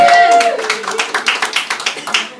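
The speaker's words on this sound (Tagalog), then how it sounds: "Palakpak mga kapatid." A church congregation claps in a loose, uneven rhythm of distinct close hand claps, following a brief tonal sound at the start.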